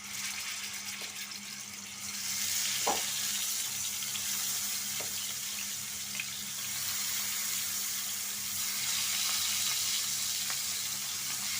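Rohu fish frying in hot oil in a pan: a steady, fairly loud hiss of sizzling that swells once the fish goes in, with a few faint clicks and pops and no talking.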